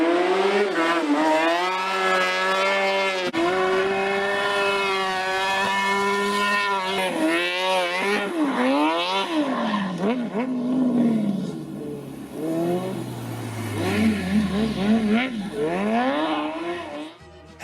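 A racing tuk-tuk built on a Piaggio APE with a wider track and a 600cc motorcycle engine revs hard, rising and falling through gear changes. The loud, close high-pitched whine is followed by a downshift growl.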